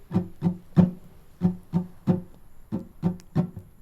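Muted strumming on a guitar, percussive damped strokes in a steady down-down-up rhythm, about ten chops close up with no voices.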